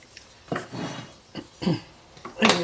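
A slotted spoon scrapes and knocks against a pan while bacon fat is drained from vegetables, four or five close, rough scraping strokes with short pauses between them.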